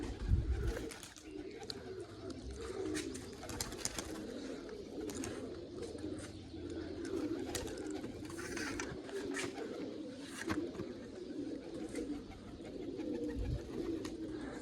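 Pigeons coo steadily in a village loft as a young red pigeon lands and settles, with wing flaps and rustling over a continuous low murmur of birds.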